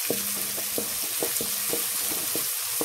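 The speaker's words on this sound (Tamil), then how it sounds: "அடுத்து நறுக்கி வச்சிருக்க வெங்காயத்தை இதில் ஆட் பண்ணிக்கிறேன் இதை நல்லா வதக்கிக்கலாம்" Chopped onions and green chillies sautéing in a pan for a spinach poriyal, with a steady sizzle and regular soft stirring taps repeating close by.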